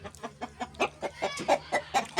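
Three Adler roosters and hens kept at home cluck in quick, repeated bursts, a busy close-up chorus of short calls with a faint low hum beneath.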